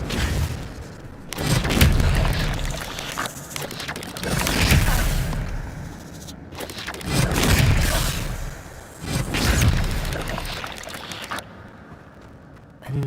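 Expelliarmus spell cast again and again in the Hogwarts Legacy video game, heard as several heavy whooshing blasts with deep booming swells, rising and fading in waves about every two to three seconds.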